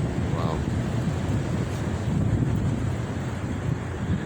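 Strong wind blowing across open water, a steady roaring rush with buffeting gusts close on the microphone throughout, no other distinct sounds.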